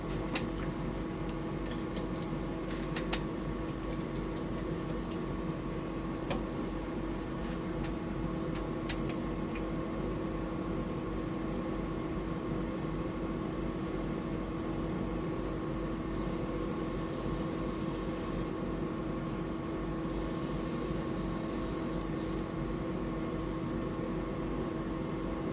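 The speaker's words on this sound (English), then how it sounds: "We'll just clean out that airbrush." An airbrush being cleaned out by spraying white paint through it, giving a steady, continuous hiss of air that runs unbroken for the whole stretch with no talk.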